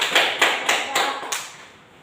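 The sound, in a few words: class clapping hands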